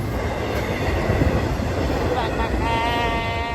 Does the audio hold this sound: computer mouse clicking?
no